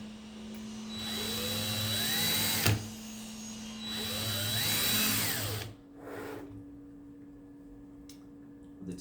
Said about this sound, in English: I like to screw the screws all the way through the petal so that you can see the tips